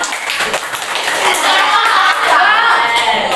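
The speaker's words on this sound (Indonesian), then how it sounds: "Bagi tepuk tangan untuk kalian dong." Students in a classroom clap for the Kahoot quiz winners, a close burst of hand clapping alongside children's voices and chatter, building slightly and continuing to the end.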